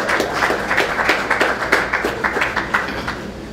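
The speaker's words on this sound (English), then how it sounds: "give Seth a round of applause" An audience at a cooking demonstration gives a round of applause for the cook, a steady wash of many hands clapping close by at even loudness for a few seconds.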